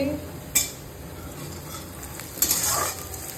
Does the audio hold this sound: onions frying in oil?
yes